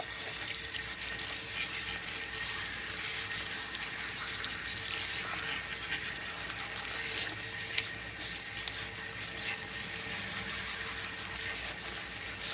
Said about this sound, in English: I'm going to rinse this thoroughly